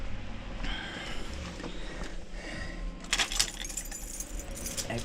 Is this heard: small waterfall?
no